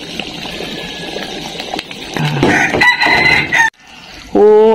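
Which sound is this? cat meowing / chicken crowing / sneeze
chicken crowing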